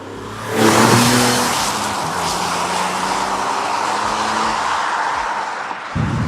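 A BMW E46 M3 CS, naturally aspirated, pulls hard from 20 to 70 mph. Loud engine roar rises sharply after a brief quiet start and holds a steady, strong drone, with a tyre or gear hint near the end.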